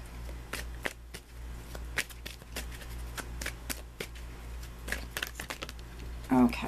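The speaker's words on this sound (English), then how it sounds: "Okay, so I had a bunch of cards flip out." Tarot cards shuffled by hand, a run of quick crisp riffles and soft slaps at an irregular rhythm, close and fairly quiet, with a brief louder flutter near the end as some cards flip out.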